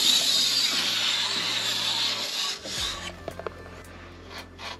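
A metal file scrapes along a ski edge to remove burrs, giving a close, gritty rasping that is sustained at first and then breaks into a few short strokes.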